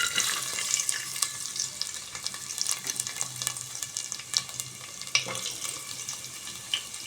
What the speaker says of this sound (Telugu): బ్రౌన్ కలర్ వచ్చేలాగా వేయించుకోవాలండి ఫస్ట్.